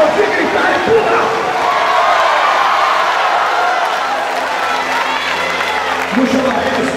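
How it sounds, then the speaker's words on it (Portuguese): A church congregation applauds and shouts together, a dense, steady wash of clapping and raised voices filling the room at close range from start to finish. "Quem pode aplaudir e gritar?"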